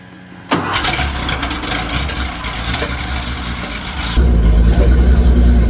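A Porsche 911 cold-starts after sitting a couple of days with a new muffler, cranking and catching abruptly, settling into a rough idle, then stepping up to a louder, higher rumble near the end.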